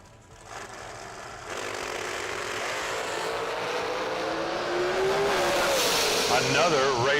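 Drag racing cars at a Summer Fling event launch from the line, engines rising into a loud, sustained roar that builds over several seconds, with a high whining tone near the end and a public-address voice faintly underneath.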